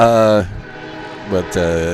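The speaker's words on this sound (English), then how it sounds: "You can hear the train rolling through Volga here in the background." A train rolling through Volga sounds its horn in loud, sustained blasts, one long blast, a pause, then a second blast, with rumbling rail noise in between.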